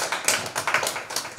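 Audience applause at a Korean poetry recital gathering, heard as brisk, close, rhythmic clapping from a small crowd for a short burst.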